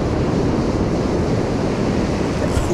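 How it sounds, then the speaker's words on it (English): Ocean surf whitewash breaks and churns along a beach gutter, a loud, steady roar of broken water mixed with buffeting wind on the microphone, with no one speaking. "Look at that gutter. All that whitewash stirring up the water."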